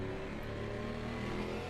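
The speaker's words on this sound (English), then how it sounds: "enjoy the sound of the hot exhaust." Hot race car exhaust from a GT4 car in the video game Assetto Corsa Competizione at Laguna Seca, a steady droning engine note held at moderate level throughout, with no talk.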